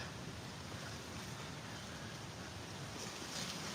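Steady outdoor wind roar buffeting the microphone on a windy day, a dense, constant rush with no pauses, slightly louder near the end.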